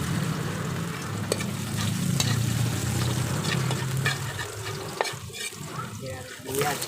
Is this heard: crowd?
no